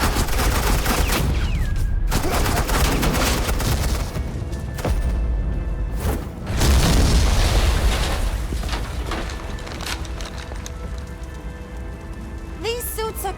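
Sustained gunfire from a suppressing-fire scene in Batman: The Enemy Within, dense crackling bursts and loud booms rolling continuously over about thirteen seconds, with a brief lull midway and no talk.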